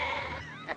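A brief, faint sheep bleat in a film scene, one wavering cry heard alone and soft.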